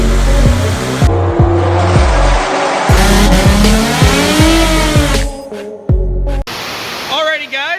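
A turbocharged Ford Mustang S550 with a 3.7 V6 and a budget low-mount turbo kit makes a full-throttle power run, its loud, close engine note climbing through repeated revving rises and shifts before dropping off.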